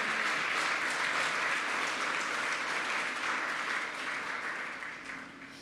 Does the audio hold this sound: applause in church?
yes